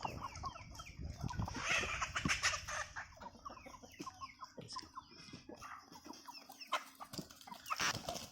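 A flock of roughly two-month-old Rhode Island Red chickens clucks and chatters continuously on a farm, with overlapping short calls and squawks at moderate distance and no voices.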